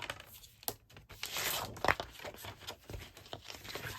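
Designer series paper being cut by hand, with soft scraping, crinkling and tearing-like strokes in an irregular rhythm. Several sharper clicks or taps stand out, and the sounds stay close and fairly quiet throughout.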